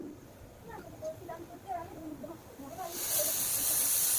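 A pressure cooker on medium heat, boiling vegetables with its lid clamped shut, lets out a loud, steady steam hiss that swells in the final seconds, following quieter rattling and bubbling from the pot.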